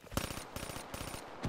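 A machine gun in the video game Black Ops 3 fires a steady, rapid stream of shots, fairly faint and continuous, with no talk.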